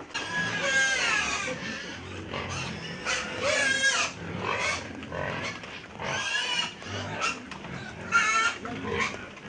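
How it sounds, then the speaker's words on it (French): Pigs on a farm eating and grunting while waiting for their meal, a busy close mix of grunts, squeals and snuffling in irregular bursts, loud and overlapping with no talk. "Lorsque le repas tarde à venir, les porcs ont droit à un apéritif pour calmer leur famine."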